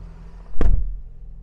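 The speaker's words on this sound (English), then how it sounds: "Let's close this door." A single solid thump as a door on a 2020 SsangYong Korando Sport swings shut, loud and close over a faint low hum, with a short fading rattle after the impact.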